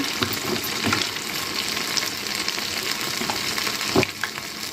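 Small perugu vadas fry in hot oil with a steady, close sizzle and bubbling, broken by a few sharper spits and pops.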